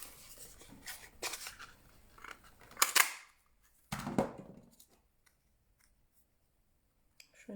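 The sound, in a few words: cutting a paper label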